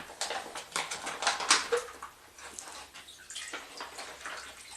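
Water poured and trickling into a homemade accessory for a Sawyer Squeeze filter, an uneven splashing and gurgling flow with small drips, close and moderately quiet, swelling and easing over a few seconds.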